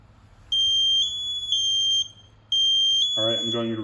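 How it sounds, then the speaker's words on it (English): MSA G1 SCBA breathing apparatus alarm cycling during a pre-donning check: loud, piercing high-pitched electronic beeps in regular on-off pulses, close by, with a voice briefly joining near the end. "I want to listen to each alarm and make sure each alarm sounds off properly"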